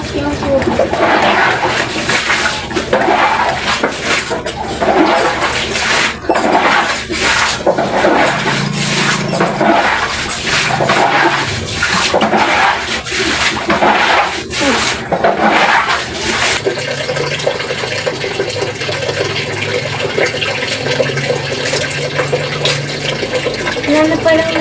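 Water gushes steadily from a tap, a constant splashing hiss with voices talking over it.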